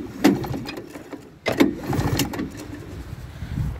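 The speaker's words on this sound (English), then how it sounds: "We just pulled it out of the barn to start it up to see if it starts." An old John Deere Spitfire snowmobile pulled from a barn is cranked over in two short bursts, a sputtering small engine that catches briefly and then idles roughly, close by with no talk.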